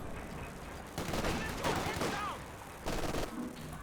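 Rifle and machine gun fire crackle in bursts during a Company of Heroes 2 match, fairly faint, with brief rattling volleys under a commentator's talk.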